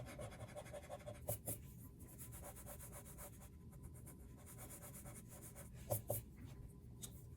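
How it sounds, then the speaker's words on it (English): A pencil sketches a spider drawing on paper, giving a continuous faint scratchy rubbing with quick back-and-forth strokes and a few sharper taps, close and quiet with no talking. "that is why we sketch it out with a pencil first"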